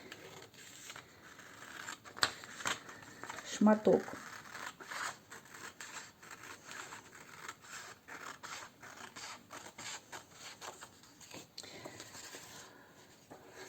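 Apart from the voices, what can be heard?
cutting paper with scissors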